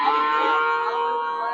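A cow lows at a cattle market in Melapalayam, Tirunelveli district, a single loud, close, sustained moo that tapers off, with no talking.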